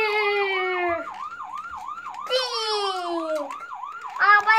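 An ambulance siren from a traffic game wails in loud, repeating rising-and-falling sweeps that run through the whole stretch, with a voice faintly underneath.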